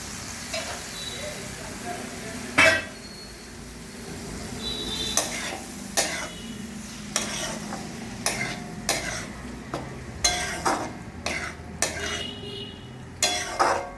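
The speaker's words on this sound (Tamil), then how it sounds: "கட் பண்ணி வச்ச பன்னீரையும் சேர்க்கிறோம்." Paneer cubes are stirred and sautéed in a metal kadai. A soft background sizzle runs under repeated sharp scrapes and clanks of a spoon against the pan, arriving in an irregular rhythm.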